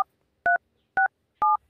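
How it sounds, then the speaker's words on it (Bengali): Telephone keypad dialing tones: three short, evenly spaced electronic beeps, each a clear dual-pitched tone, heard alone against near silence. "দাঁড়া ফোনটা লাগে"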